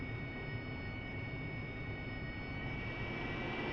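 A steady, even engine roar from a military aircraft taxiing toward the runway in a flight video game holds constant and fairly faint throughout.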